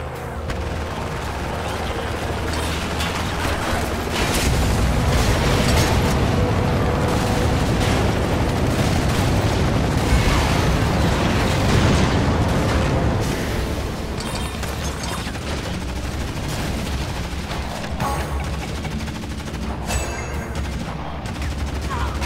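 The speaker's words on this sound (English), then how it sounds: "Inferno's men have opened fire on the civilians." Sustained gunfire and repeated explosions in the action video game Renegade Ops, as enemy troops open fire on civilians in a town: dense bursts of shots and booms, loud and continuous, with some voices mixed in.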